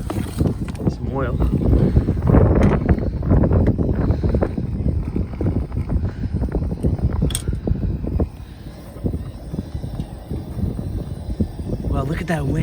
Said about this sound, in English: Wow, look at that wind, man. That's crazy.